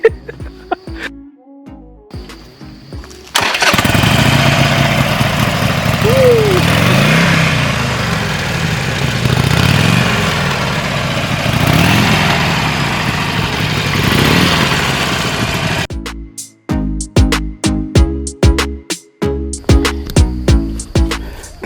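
A Harley-Davidson Iron 883 motorcycle fires up with a short burst, then settles into a loud, steady idle that rumbles for over ten seconds before dropping away into clicks and handling sounds.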